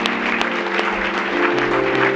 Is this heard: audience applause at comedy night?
yes